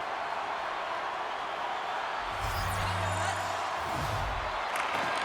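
Steady arena crowd roar from an NHL 23 hockey video game, a tie game late in the period, swelling slightly midway, with a low hum of bass underneath and no voices over it.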